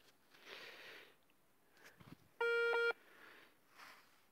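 Metal detector sounding over buried aluminium near a large linden tree, a single loud sustained electronic tone lasting about half a second, surrounded by quiet rustling and sniffing.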